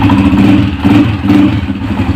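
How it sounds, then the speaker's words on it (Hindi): A restored 2016 Honda CG125 motorcycle idling close up just after starting, a loud steady single-cylinder thrum with a slight rhythmic pulsing and light mechanical clatter. "ये बाइक मैंने स्टार्ट कर दी है, माशाल्लाह साउंड भी बहुत प्यारा है। इंजन का साउंड भी आप चेक करेंगे"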